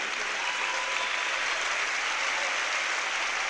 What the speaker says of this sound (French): Pierre Gerber, bien applaudi par le public